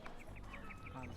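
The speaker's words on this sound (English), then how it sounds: "Oh, the chicken." A chicken in the Age of Empires 2 video game gives a quick series of short clucks and squawks, fairly soft, with game sounds under them.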